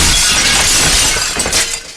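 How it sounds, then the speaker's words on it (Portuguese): Glass shatters loudly as a window breaks during a Wolverine fight scene, a dense crashing burst of breaking glass filling the whole moment before tapering slightly. "fazendo ele quebrar o vidro"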